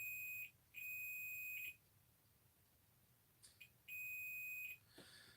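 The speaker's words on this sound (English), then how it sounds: "I wonder if that would beep." An electrical tester beeps while probing a shorted shield wire to an emitter: two long, shrill steady tones, each about a second long, separated by a pause, with faint handling clicks between.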